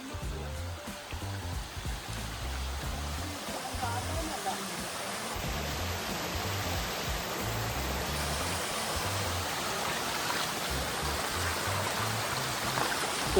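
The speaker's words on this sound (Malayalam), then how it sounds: "ഇതാണോ വലിയ വെള്ളച്ചാട്ടം" Steady rushing water fills the scene, a continuous broadband roar of a nearby waterfall and flowing stream, with occasional voices faintly underneath.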